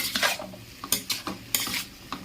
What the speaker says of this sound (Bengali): এবার গ্যাসের ফ্লেমটা মিডিয়ামে রেখে না ভালো করে কষিয়ে নেব